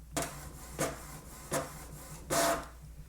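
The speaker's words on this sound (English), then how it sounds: "at the end, you're going to press the print button" A Canon Pixma TR7820 inkjet printer printing pages, with four separate mechanical whirring strokes spaced under a second apart, the last one longer and louder, heard quietly at close range.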